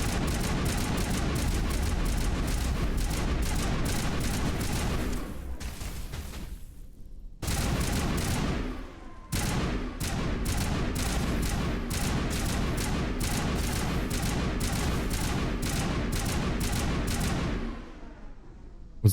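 Sustained rapid gunfire in Mass Effect Legendary Edition, dense repeated loud shots in long bursts with brief pauses, weapon fire dominating throughout.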